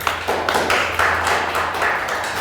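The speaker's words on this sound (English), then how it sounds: "Can we give him a round of applause, please?" Audience applause at a youth participation panel event, a dense, steady wash of many hands clapping that stays loud throughout.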